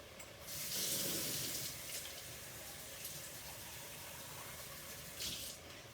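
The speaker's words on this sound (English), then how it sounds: "So 1 cup of water goes in here as well." Water is poured from a cup into a pot of tomato sauce for chili con carne and swished around the sides, a steady close splashing gush that tapers off, followed by a few lighter sloshes.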